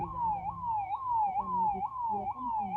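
An ambulance siren wails in a steady repeating rising-and-falling cycle as the vehicle drives off from a village well rescue site, loud and sustained over low road rumble.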